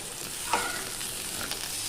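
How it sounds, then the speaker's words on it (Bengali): Carrot goes into a pan where fennel paste, cumin, coriander powder, salt and turmeric are frying, giving a soft steady sizzle with a brief stirring scrape, faint and close, with no voices. "এটা ভাজা ভাজা হয়ে এসেছে। এরপর দিয়ে দিচ্ছি গাজর"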